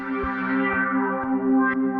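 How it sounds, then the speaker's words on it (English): Synthesizer tone with an LFO-driven filter sweep set narrow, a steady sustained sound with a gentle, rhythmic pulse in brightness and faint repeated thumps, heard alone at moderate level. "you can hear the sweep is a lot more narrow right now"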